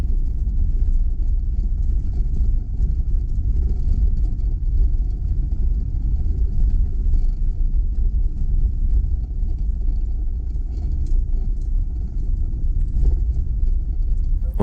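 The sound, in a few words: car driving on a dirt road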